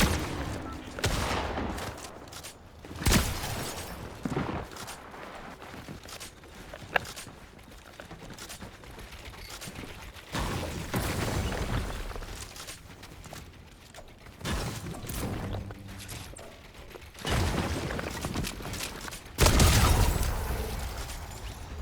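Bursts of gunfire in Fortnite, repeated sharp shots and rapid volleys spread irregularly over a stretch of game sound, some close and loud, others fainter between.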